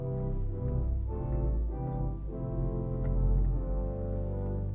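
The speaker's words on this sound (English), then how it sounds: "let's start with the great manual, which is located over here with a violon 16-foot sounding like this." A violon 16-foot stop on the great manual of a hybrid pipe organ combining real pipes and digital stops in a Presbyterian church, deep sustained bass notes played in a slow legato line, alone and fairly loud.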